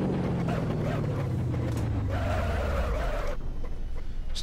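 ETK K Series car in the BeamNG Drive game with a loud turbo, a continuous engine drone with a falling whine as revs drop, then a hissing whistle and a sharp release near the end, no talk.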